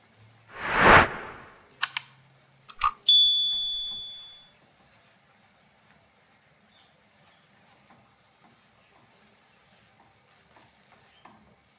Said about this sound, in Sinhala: මේ විදිහට හොඳට වතුර ගතිය හිඳෙනකන් හැඳි ගා ගන්න ඕන